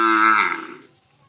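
A calf moos once, close and clear, the call fading out within about a second.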